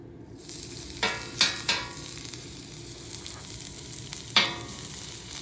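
Garlic sizzling in ghee on a flat griddle, a soft continuous frying hiss with a few sharp crackling pops and spatula scrapes, heard alone without talk.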